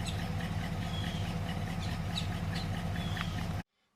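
A 1969 Pontiac LeMans engine idles, a low steady rumble with faint squeaky tones above, heard close and alone before cutting off abruptly near the end.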